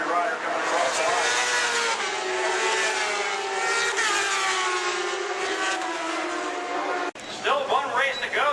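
Superbikes at the 2007 AMA Superbike finale roar across the finish line in a continuous, loud engine drone. A commentator talks excitedly over them throughout.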